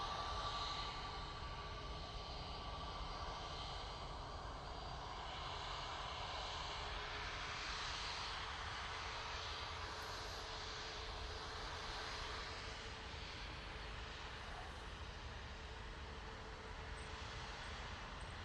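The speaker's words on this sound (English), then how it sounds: "Nige going off to London now. He's in an A320neo." An Airbus A320neo jet departing Manchester for London produces a faint, steady, distant rumble that holds evenly for about eighteen seconds with no voices.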